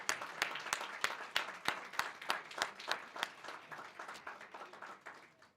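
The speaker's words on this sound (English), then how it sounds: "may we please give Ambassador Pilar another round of applause for those speeches" Audience applause at a Haitian flag anniversary ceremony, heard as a thin, moderately quiet crowd clapping with distinct individual claps in a fairly regular rhythm throughout.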